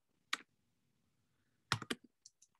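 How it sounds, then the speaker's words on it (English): A computer keyboard is used to type text in a few sparse bursts: one isolated keystroke, then a quick cluster of clacks and several lighter taps, close and crisp against quiet. "So I'm typing text right here."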